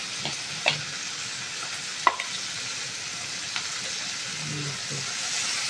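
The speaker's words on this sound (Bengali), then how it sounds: "আমার ভাজা হয়ে এসছে, অর্ধেকটা ভাজা হয়ে গেছে।" Chopped onion and garlic fry in a pan for mocha bora, a soft continuous sizzle broken by a few sharp utensil scrapes and clinks.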